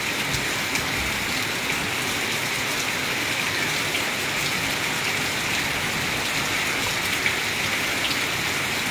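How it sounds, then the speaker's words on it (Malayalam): Heavy rain pours down steadily with a dense, even hiss that stays constant from start to finish, at Anakkallu, Kanjirappally, Kerala. "ഇന്നത്തെ മഴയുടെ ചില ദൃശ്യങ്ങളാണ്."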